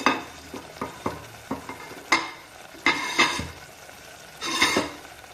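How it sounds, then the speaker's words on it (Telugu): Onion-tomato masala paste sizzles and fries in a pan while a spoon stirs it, with repeated scraping strokes and clinks against the pan over a steady hiss, close up and no talking. "అది దీంట్లో వేసి పచ్చి వాసన పోయే వరకు వేయించుకుందాం"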